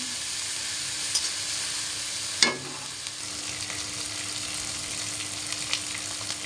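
Green chilli paste and about a spoonful of onion paste sautéing in hot oil, giving a steady soft sizzle with a sharp clatter of stirring partway through, close and fairly quiet with no talking.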